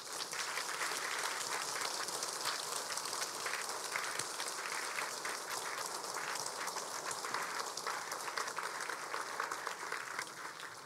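Sustained applause from a church congregation fills the whole stretch at a steady, fairly distant level, a dense wash of many hands clapping together with no one speaking over it.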